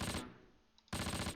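Cannon and gunfire in the World War II tactical video game Close Combat, two loud bursts of rapid firing separated by a quieter gap with a faint ping in the middle.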